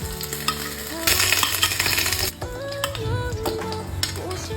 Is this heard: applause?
no